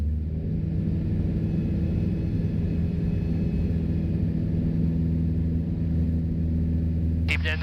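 A small single-engine airplane runs at full throttle during stall practice, a loud, steady, droning engine roar with propeller hum filling the whole cabin, unbroken throughout with a faint higher tone at the very end.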